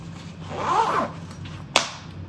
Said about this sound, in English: So YKK zips throughout.